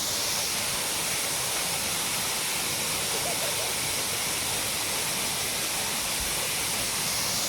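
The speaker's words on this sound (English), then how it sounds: "Let's have a look at the waterfall." Waterfall on the Golspie Burn walk roars as a loud, constant, broadband rush of falling water, close by and unbroken, with no clear voices over it.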